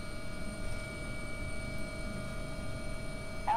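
An AW-139 helicopter in the X-Plane 11 flight simulator runs with its rotor at speed, giving a steady, fairly quiet hum with a constant whine on top, unchanging and with no voices.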